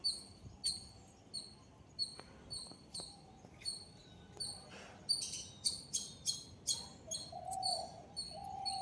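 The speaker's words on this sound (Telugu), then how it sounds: "చూసారా పిట్టల అరుపులు" Small birds call repeatedly outdoors near a flowering garden shrub and guava tree, with short chirps and tweets recurring throughout and a faster burst of calls toward the end, fairly close and without talk.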